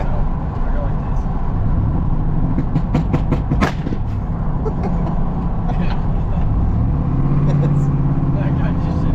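A motorcycle engine at a cycle repair shop, with a spark limiter set around 1900 RPM, runs steadily with a rough idle and brief revs. It stays loud throughout while people talk over it.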